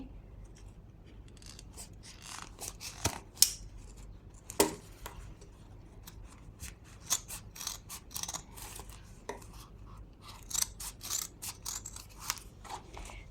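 Scissors snip through paper along a drawn shape, giving a series of sharp, irregular cuts with short pauses between them, close and fairly quiet over a low background hum.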